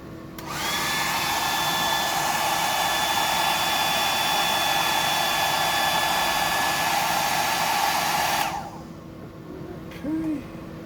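Hair dryer blowing over freshly painted work, a loud, steady, close whooshing whine that switches on sharply, runs continuously for several seconds, then cuts off to a quieter room.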